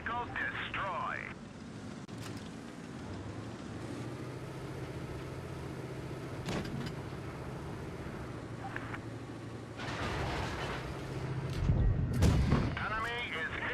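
Tank cannon blasts and shell hits in the World of Tanks Blitz video game, several sharp booms spread over a constant engine rumble, with game voice announcements and player talk throughout.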